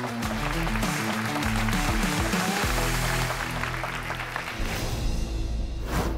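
Studio audience at a Turkish children's competition show applauding the Yıldızlar team after they finish before time runs out, a loud burst of clapping and cheering mixed with background music, fading slightly toward the end.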